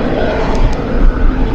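Embraer E-99 early warning aircraft of the Brazilian air force, a loud, broad steady engine roar with slight swells, close by and without talk.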